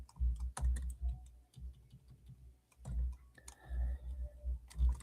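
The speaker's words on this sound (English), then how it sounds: "And so I'm just typing up this message here to send to them." Clicking keys of a computer keyboard while a message is typed, with irregular bursts of taps and short pauses, close and fairly quiet.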